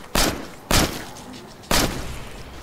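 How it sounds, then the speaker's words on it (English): Three heavy booming blasts from an artillery barrage in State of Decay: Lifeline, spaced irregularly and loud against a quiet background, each with a short rumbling tail. "artillery barrage on my mark"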